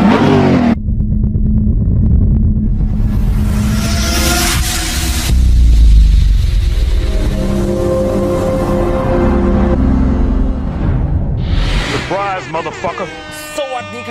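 Buggy engine in the mobile game Car Parking Multiplayer, a steady loud motor drone with revving swells through most of the stretch, overlaid by game music and other effects near the end.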